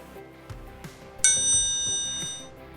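A triangle struck once, a single bright metallic ring sustaining and slowly fading over a soft background of light clatter.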